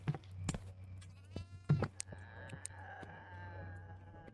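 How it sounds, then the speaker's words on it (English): A goat in the horror video game Devour bleats several times in quick wavering cries, near and clear over a low steady game hum with scattered clicks. "There's a goat in here."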